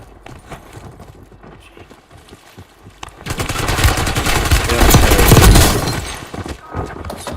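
Heavy gunfire rattles in a Call of Duty match, starting with scattered shots and swelling into a dense, loud barrage that peaks and then eases off.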